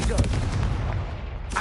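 Booming blast from the Confringo spell in Hogwarts Legacy, a loud close explosive burst that rumbles and fades over about a second, with a second crack at the end.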